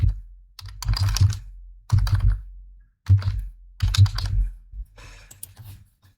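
Close-up typing on a computer keyboard comes in several short bursts of quick clicking keystrokes, separated by brief pauses.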